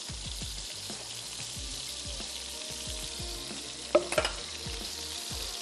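Minced meat for dum qeema cooks in a pot, with a soft steady sizzle and bubbling under a few brief scraping stirs and a clink near the end. Nobody talks.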